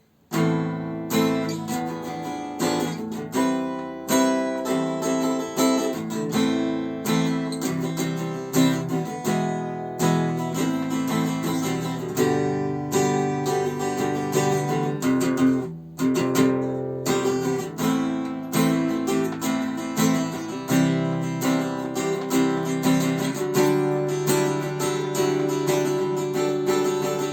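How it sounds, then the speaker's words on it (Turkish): Steady strummed and picked chords on a mahogany acoustic guitar play alone through a Roland JC-120 amp, moderately loud and close, with a brief pause midway before the playing resumes. "arkadaşlar gitarımızın bu akustik sesini ben dinleteyim size"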